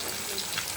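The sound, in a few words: rohu fish deep frying in oil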